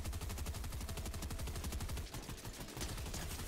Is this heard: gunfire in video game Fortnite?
yes